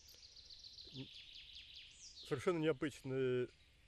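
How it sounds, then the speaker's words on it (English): A spotted woodpecker gives a fast series of thin, high, descending chirps, close and clear, followed by a few louder, fuller calls that may be a voice. "I have never heard such a call of a woodpecker"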